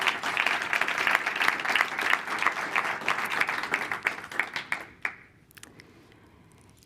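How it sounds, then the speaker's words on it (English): Close, lively clapping from a demo-day audience welcoming a jury member, dense at first, then thinning to a few scattered claps before fading out. "A round of applause for Stefanie,"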